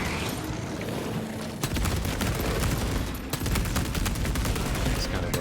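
Plasma pistol fire in the video game Space Marine 2 sounds as rapid, dense bursts of gunfire: a long rattling volley, then a short pause, then more crackling shots, loud and close amid the battle noise.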